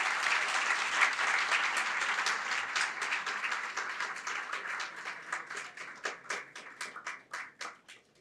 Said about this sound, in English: You can give a huge round of applause again.